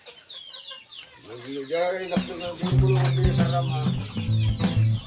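Chickens squawk and cluck loudly at close range while being caught and moved into a breeding pen, the rising, agitated calls growing busier and denser partway through.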